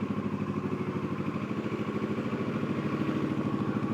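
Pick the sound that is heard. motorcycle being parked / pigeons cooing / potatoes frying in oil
motorcycle being parked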